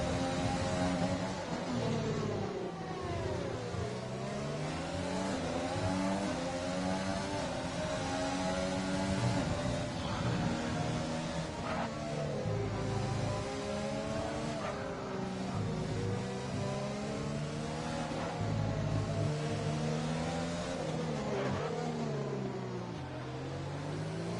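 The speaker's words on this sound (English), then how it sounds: "Brandon Villegas, I heard his car coming in hot" F3 race car engine in a racing video game at a Vietnam round, revving hard through repeated rising and falling gear sweeps, loud and close, continuous with brief dips between shifts and no talk.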